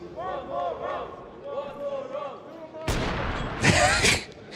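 An esports crowd at a Counter-Strike 2 quarterfinal roars up suddenly in a loud burst of cheering and shouts, following a stretch of game sounds and voices.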